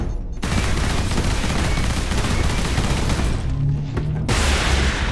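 Dense, relentless gunfire in the Warhammer 40,000 Space Marine video game, a loud continuous roar of rapid shots and blasts that briefly dips before surging back.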